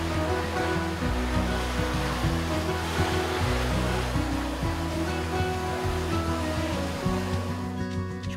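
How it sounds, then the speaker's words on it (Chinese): A pressurized water gun rinses a silkscreen used for multi-plate colour screen printing, producing a steady, loud hissing spray of water that continues without pause throughout, with a low humming undertone. "然后我哋用加压水枪冲洗丝网。"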